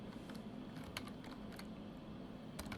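Quiet, quick clicks of fingers typing on a computer keyboard, an irregular patter of light keystrokes over faint room hum.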